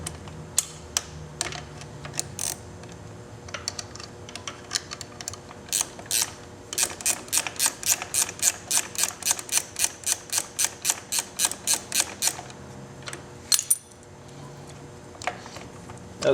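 Rapid run of sharp metallic ratchet clicks from a wrench loosening a bolt on a motorcycle rear master cylinder cover, with scattered clicks first, then a fast even burst, a pause and a few more clicks.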